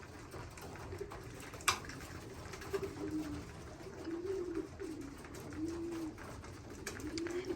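Racing pigeons coo repeatedly at a loft during a young bird race, low rolling coos recurring through the clip over steady background hiss, with one sharp click near the start.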